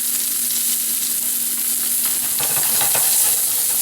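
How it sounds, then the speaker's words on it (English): Garlic sizzles and fries in a hot pan beside a bone-in strip steak over medium heat, a steady close hiss with brief bursts of crackle toward the end. "I'm going to add my garlic to the pan,"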